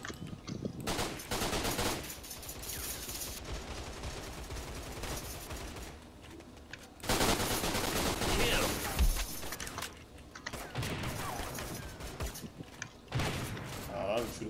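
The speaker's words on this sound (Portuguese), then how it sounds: "o tiro tá comendo um feio aqui" Gunfire in the online shooter Line of Sight, with bursts of loud automatic shots in uneven clusters separated by short quieter gaps, mixed with game sounds and a voice talking over the action.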